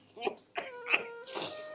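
Several short, harsh coughs in quick succession, close to the microphone, with a rougher, drawn-out hacking burst at the end.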